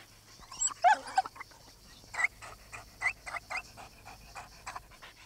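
A dog pants in quick rhythmic breaths close by, with a few whimpers near the start and more soft panting bursts after, against a quiet indoor background.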